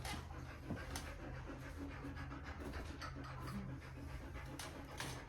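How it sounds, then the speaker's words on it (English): A dog named Licorice pants in quick, steady breaths, close but quiet, continuing evenly with no talking over it. "Licorice is panting"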